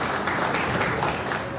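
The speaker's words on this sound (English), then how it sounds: "they deserve a round of applause" Ceremony audience clapping in a brief, dense burst of applause, steady and close with no voices on top.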